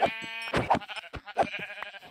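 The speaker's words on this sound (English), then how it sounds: "I hear more sheep, boys." Sheep bleating in Minecraft, several short nasal bleats in quick succession, close and clear with brief gaps between calls, no talking.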